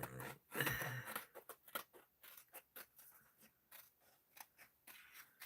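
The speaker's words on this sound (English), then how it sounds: "I'm gonna cut out this one piece because I'm using my fabric scissors" Fabric scissors snip repeatedly through paper in a steady, uneven rhythm of short crisp cuts, close and quiet, with no talking.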